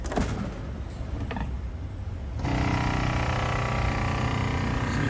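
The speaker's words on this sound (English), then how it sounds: "we'll vacuum this and seal all that flavor inside" Vacuum sealer working on a bag of marinated steak, a dense mechanical hum and hiss that grows fuller and louder partway through, then continues steadily with no talking.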